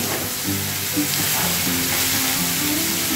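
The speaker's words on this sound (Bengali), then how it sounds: "তারপরে ভেজে নিই" Steady, loud sizzling of food frying in a pan, a continuous crackling hiss with faint clinks, no voices.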